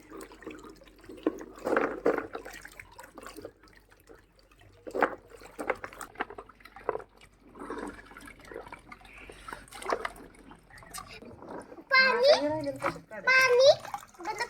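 A water tap runs at home, with a thin trickling and splashing under children's chatter and an adult voice, growing louder near the end.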